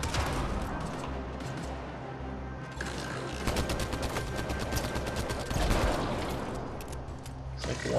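A deployed turret in Mass Effect: Andromeda fires sustained rapid bursts at enemies, a steady rattle of automatic gunfire amid loud combat noise.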